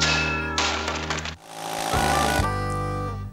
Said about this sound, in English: Now there's a sound you hate to hear, a screwdriver bit just slipping in the head of a screw